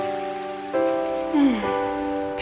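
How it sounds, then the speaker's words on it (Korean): Autumn rain falls in a steady, soft hiss throughout, largely masked by a louder sustained musical tone with a note that swoops downward midway. "비가 오네."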